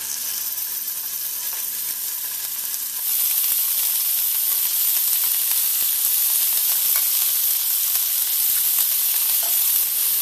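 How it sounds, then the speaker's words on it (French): Beef pieces sear in a hot pan before braising, a loud steady sizzle that jumps sharply in level after about three seconds and then holds a dense, continuous hiss with occasional crackles, no voices. "On fait rissoler notre viande"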